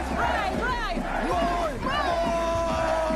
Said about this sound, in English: This is your crowd.